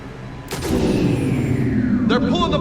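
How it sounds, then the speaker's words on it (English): Cannon fire in the video game Mass Effect 3: one heavy blast erupts, then a long rolling rumble carries on. A short, faint sound or voice surfaces near the end. "Then I think it's time to test this cannon."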